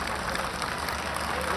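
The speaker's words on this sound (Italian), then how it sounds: "giunto nel comune toscano tra gli applausi di cittadini e turisti" Citizens and tourists in a Tuscan town applaud the arrival of President Mattarella, a steady, moderately distant patter of clapping from a crowd, with a voice speaking over it.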